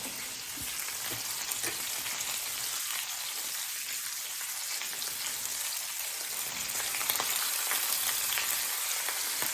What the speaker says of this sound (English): Get that fancy sear on it.